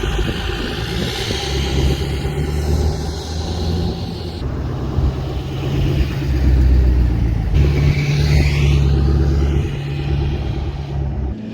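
A Ford F-450 pickup with the 6.7L Powerstroke diesel pulls out onto the road, its engine a steady loud rumble that rises as it accelerates, with road and wind noise building over the whole stretch.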